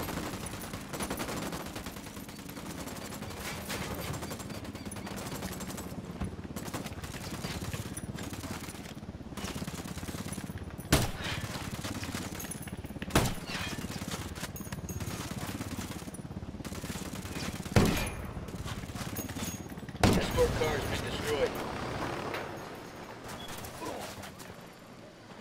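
Sustained gunfire from Ghost Recon Wildlands, with repeated sharp shots and bursts popping over a dense, busy game soundscape, several louder cracks standing out near the middle and end.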